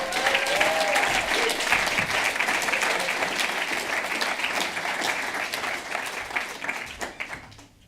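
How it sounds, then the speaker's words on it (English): A crowd applauds steadily and loudly for several seconds, a dense wash of clapping that slowly thins toward the end. "give him a big round of applause."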